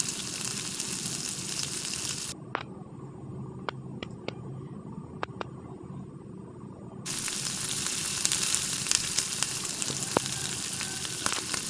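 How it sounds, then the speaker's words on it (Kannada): Garlic and ginger sizzle steadily in hot oil in a pan for a fish masala, a continuous crackling hiss with a few light clicks of stirring and no voices. "ಸ್ವಲ್ಪ ಬೆಳ್ಳುಳ್ಳಿ, ಸ್ವಲ್ಪ ಶುಂಠಿ ಹಾಕ್ತಾ ಇದ್ದೇನೆ. ಇದನ್ನು ಹಾಕಿ ಚೆನ್ನಾಗಿ ಫ್ರೈ ಮಾಡುವ."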